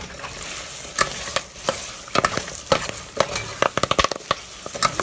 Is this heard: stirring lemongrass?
yes